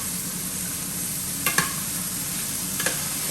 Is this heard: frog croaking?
no